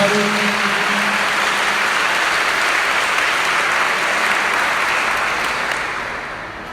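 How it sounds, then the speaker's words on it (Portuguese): Congregation applauding during a church sermon, loud sustained clapping across a full room that tapers off at the close. "Aplauda Jesus com força."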